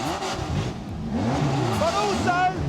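A car engine revs hard through a custom aftermarket exhaust, loud and close, with rising and falling pitch sweeps as the throttle is blipped repeatedly.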